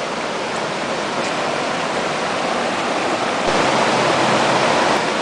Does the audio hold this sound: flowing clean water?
yes